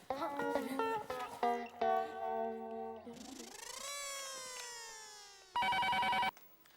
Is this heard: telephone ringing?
yes